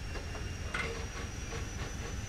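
A BR Class 56 diesel locomotive on the Hastings Line starts a very heavy train at Mountfield, giving a steady, close engine rumble with faint hissing and light rhythmic clatter.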